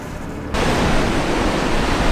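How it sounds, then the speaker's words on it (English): Ocean waves crash against the side of a jetty, a loud, steady roar of surf and spray that surges in suddenly after a quieter moment and then holds, with no voices. "those waves really crash against the side of that jetty"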